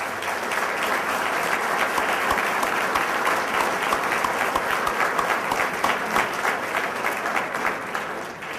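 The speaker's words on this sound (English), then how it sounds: "So let's give them a round of applause as well" A crowd at a breakfast salute event honoring troops gives veterans from a veterans home a long, even round of applause, loud and unbroken throughout.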